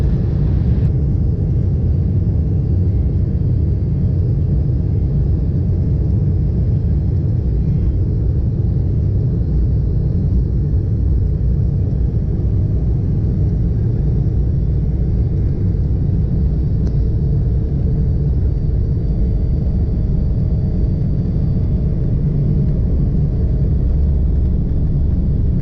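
A private Embraer jet's engines roar steadily during takeoff, heard from inside the cabin as a loud, continuous low rumble that lasts throughout with no talking.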